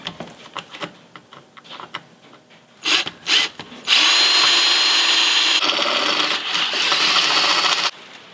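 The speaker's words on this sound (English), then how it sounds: "Then we're going to drill up to 17/32" A power drill bores holes in a steel crossmember, beginning with soft scattered taps and clicks, then rising into a loud, steady high-pitched grinding whir for about four seconds before stopping abruptly.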